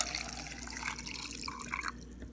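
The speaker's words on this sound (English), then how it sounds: "And to each of these drums, I will add hot water, just enough to get a little bit higher than the rocks." Hot water runs and trickles steadily into rock tumbler drums holding stones, a continuous close splashing pour with dripping over a low background hum.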